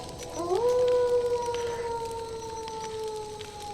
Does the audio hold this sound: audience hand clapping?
no